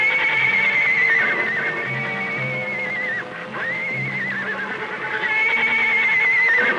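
Indian ponies in a corral give loud, close, repeated neighs and whinnies, one after another, with a faint clop of hooves beneath.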